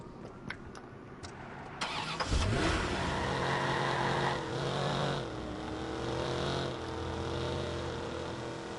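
A car engine cranks and catches in the video game Watch Dogs, then settles into a steady loud idle with a slight rev, heard close and alone for several seconds.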